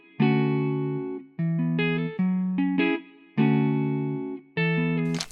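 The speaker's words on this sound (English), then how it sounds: "So let's listen to the guitar without effects." A VST guitar loop in FL Studio with no effects: a clean, dry sequence of plucked chords and short note figures, each decaying before the next, repeating in a steady pattern; close and alone with no talk.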